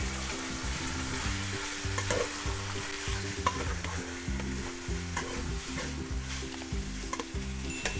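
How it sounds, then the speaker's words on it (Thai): Beef and curry paste stir-fry in a hot pan, a steady close sizzle broken by regular scraping and stirring strokes, with no talk. "ผัดเนื้อกับเครื่องแกงให้หอมสักนิดก่อน"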